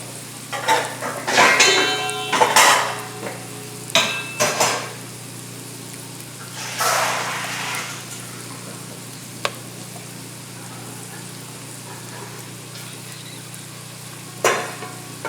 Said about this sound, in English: I'm going to put the soaked beans into the pot.